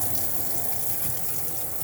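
Water rushes steadily from open taps aboard a 2016 Lunar Delta Ti caravan, a continuous close hiss and gush with no talk.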